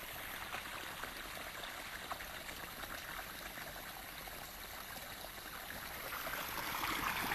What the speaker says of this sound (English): He draws into the rice fields cold water from the mountain.